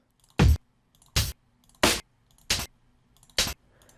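A sliced drum break, Akuma 1, cut into eighth-note chunks and sequenced in Tidal. Five sharp, punchy hits fall at an even pace over about four seconds, each short and loud with silence between them.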